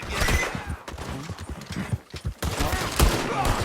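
Scattered gunshots in the video game Red Dead Online, with several sharp cracks over a busy background of hoofbeats and game noise, fairly loud and close.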